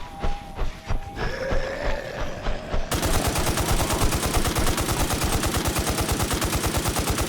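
Gunfire in the game NewZ while fighting the Slicer centipede boss, at first scattered shots and tones, then sudden sustained rapid automatic fire that runs on loud and steady to the end.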